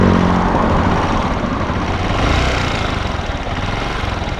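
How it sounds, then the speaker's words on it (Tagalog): Honda TMX motorcycle with a persistent ticking fault, its warm engine idling close by in a steady low throb with fast even knocking pulses, loud and unbroken, with nobody talking. "paparinig ko sa inyo yung makina"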